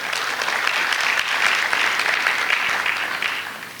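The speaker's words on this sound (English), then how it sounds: "so these are the graduates applauding for themselves" Graduates applauding for themselves at a graduation and induction ceremony, a dense, even burst of clapping from a large crowd that holds steady for several seconds before easing off.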